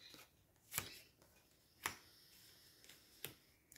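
Tarot cards being drawn and laid down during a small reading, three sharp flicks spaced through a quiet room, each card snapping onto the table, with no voices.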